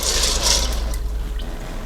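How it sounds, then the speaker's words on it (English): Mac and cheese bubbles softly in the white ceramic-coated pot of a Ninja Foodi cooker, a short burst of wet gurgling and faint popping over a low steady hum, close by and heard without talk. "Here, bubbling in there a little bit."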